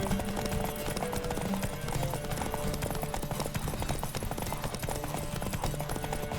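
A horse gallops in The Witcher 3, its steady, rapid hoofbeats drumming continuously at a close, even loudness over a busy game soundscape.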